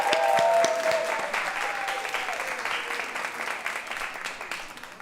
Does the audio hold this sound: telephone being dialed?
no